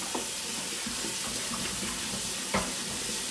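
Tap water runs steadily into a sink while a mixer part is rinsed under it, a continuous hiss with a couple of brief clinks or splashes, close and alone with no talk.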